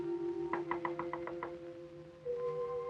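Seven quick, evenly spaced knocks rap on a door, clear and moderately close, over a steady low hum in an old 1947 fantasy film soundtrack.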